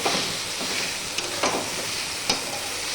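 Taro (ghot kochu) fried in a pan: a continuous close sizzle and crackle of oil with a few quick spatula scrapes and taps scattered through it, without any talking.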